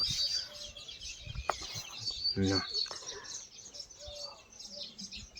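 Sparrows chirp and twitter in a busy chorus while building nests at a moderate distance, joined by occasional louder calls and a soft background murmur.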